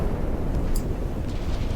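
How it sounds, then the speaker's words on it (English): Naval shells explode in Ultimate Admiral: Dreadnoughts during a fleet battle, a dense, continuous low rumble of distant blasts with one brief sharper crack partway through. "I hear a lot of explosions going on."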